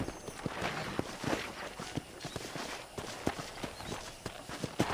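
Hooves clip-clop in a steady walking rhythm from a horse in the video game Red Dead Redemption, moderately close over faint outdoor ambience, with no talking.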